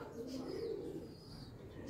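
Soft, low cooing from Teddy pigeons murmurs steadily close by, with a faint background hiss and no clear talk.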